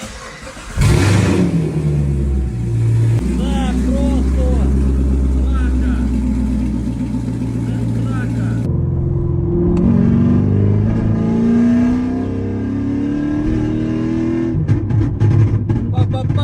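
A 1974 Mercedes SL450 Cabriolet engine starts and revs loudly close by, its deep throbbing rising and falling through several surges over a sustained idle, with a voice speaking over it.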